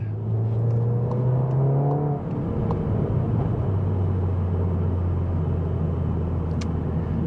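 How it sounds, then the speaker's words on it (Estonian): A Seat Leon Cupra 300 accelerates under load, its engine note climbing to a shift, dipping, then building again into a sustained, fairly loud whirring drone. "Sõidame Seat Leon Cupraga."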